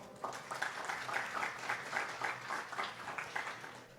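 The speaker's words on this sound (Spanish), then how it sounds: "Úrsula Velasco de Pacífico Seguros, a que le pido un fuerte aplauso." A conference audience at a talk on risk prevention and management welcomes a speaker with applause: faint, distant-sounding clapping with an even texture for a few seconds.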